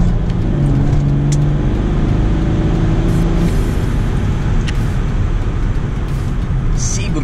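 A BMW E60 535d diesel engine, tuned to 400 horsepower, drones loudly from inside the car, its low rumble rising as it pulls away from a traffic light at night in Bucharest, with a voice talking over it.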